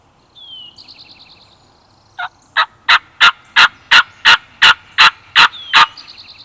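A wild turkey gobbler calls on private land in Mississippi, giving a run of about ten loud, evenly spaced, sharp notes after a brief stretch of fainter songbird chirping.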